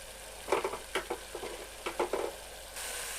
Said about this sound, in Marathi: फोडणी दिली की भाजी लगेच होणार